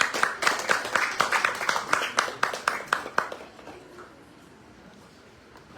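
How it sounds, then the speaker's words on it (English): Small audience at a poetry reading clapping, a modest round of sharp, rhythmic claps from a handful of people that tapers off after about three seconds into quiet room tone. "Round of applause, please."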